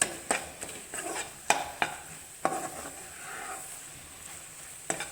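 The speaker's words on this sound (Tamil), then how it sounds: "நல்லா கிண்டி விடுங்க தீயதுனால சிம்மில் வச்சுட்டே கிண்டுங்க" A spoon scrapes and stirs egg poriyal in a pan over a low flame, making a series of sharp clinks and scrapes over a soft, steady sizzle, close and fairly quiet, with no voices.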